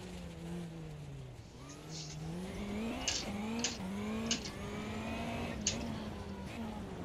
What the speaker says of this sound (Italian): cambio sequenziale è che si fa sentire, si sente tum tum tum ovviamente.